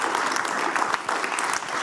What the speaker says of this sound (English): A round of applause to both of them.